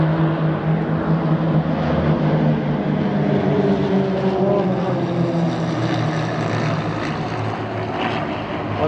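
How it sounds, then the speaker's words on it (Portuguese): A propeller aircraft of the Halcones aerobatic squadron roars low past the control tower at an air show, a loud, steady droning engine sound filling the whole stretch without talk. "a aeronave passa muito próximo aqui da torre"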